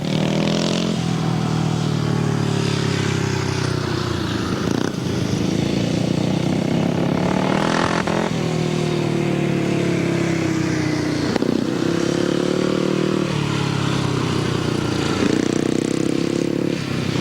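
Grasstrack racing motorcycles, including a J.A. Presswich JAP bike, roar loudly and continuously, engines rising and falling in pitch as they pass and rev around the circuit, with rough clattering underneath.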